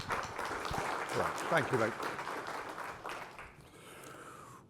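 Conference audience at a speaker session applauding, a moderate burst of clapping from a room of people that tapers off, with a voice thanking them over it.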